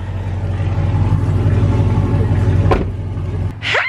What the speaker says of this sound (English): the car is cold right now. That's why it's loud.